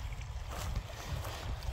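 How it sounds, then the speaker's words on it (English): Water runs over a shallow, ankle-deep creek, a steady rushing babble with a rumbling low end heard up close and alone. "you can really hear the water running"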